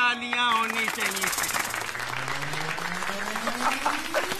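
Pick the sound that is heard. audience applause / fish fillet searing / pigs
audience applause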